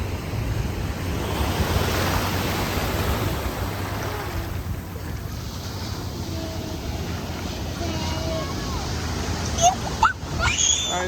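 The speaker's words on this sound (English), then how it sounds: "I know, the waves are coming. The waves always come." Ocean surf washing onto a sandy beach at Pier Shoals, a steady broadband rush with wind buffeting the microphone, brief squeaky sounds and a voice near the end.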